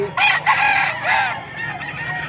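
A bullstag gamefowl rooster crows up close at a pet market, giving one loud crow with a brief break and then a second, softer crow. A faint murmur of background noise runs under it.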